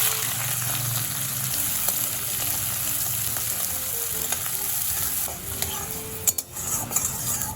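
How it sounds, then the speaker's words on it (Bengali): Onions sizzle steadily in hot oil in a pan while a spoon stirs them, with occasional utensil clinks and scrapes close by. "এবার তেল গরম হয়ে গেছে আমি পেঁয়াজগুলো সব তেলের মধ্যে দিয়ে দেবো"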